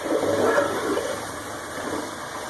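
Water is poured into a pot of fried chicken and tomatoes, a close, rushing gush that splashes loudly at first and then settles into a steadier, softer stream, with no talking.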